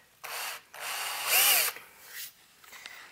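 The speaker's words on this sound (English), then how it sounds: "And then we're going to drill our pilot hole, and let's see what this material drills like." A power drill spins up to bore a pilot hole in the chassis material of a 1930s Globe tube amp, with short whirring bursts rising in pitch and then winding down, close up.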